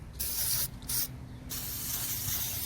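An aerosol can sprays battery terminal protector onto a corroded car battery terminal, a close, loud hiss in three bursts, two short ones followed by a longer steady spray.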